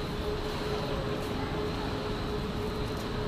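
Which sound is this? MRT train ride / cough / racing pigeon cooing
MRT train ride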